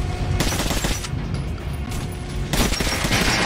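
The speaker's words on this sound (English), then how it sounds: "Now shoot the armored dummy" Gunfire aimed at an armored training dummy in Metro: Last Light, rapid loud bursts of automatic shots in two main volleys with a brief lull and mechanical clatter between them.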